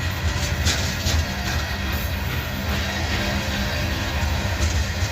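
Freight cars with rotary couplers rolling steadily downhill behind locomotives in dynamic braking, a continuous loud rumble with low engine drone and rail clatter throughout, no voices.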